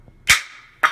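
Two sharp, hard impacts about half a second apart, a flat Starboard polymer board slapping against a concrete floor in a drop test, with a brief ringing tail after each.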